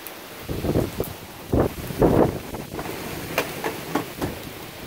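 Strong wind gusts during a severe thunderstorm, roaring and buffeting the microphone in several loud surges with rustling in between.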